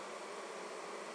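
Honeybees fanning at the entrance of a flowerpot swarm bait hive make a dense, even buzzing hum, close and continuous with no voices.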